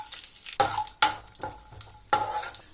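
Cashews fry in hot ghee in a pan, with a soft sizzle broken by several sharp scraping strokes as they are stirred, close and without voices.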